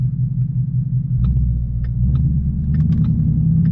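A car fitted with a Ford Performance Stage 3 kit idles at a stop sign, a steady deep low rumble that swells slightly midway, with faint clicks above it and no talking.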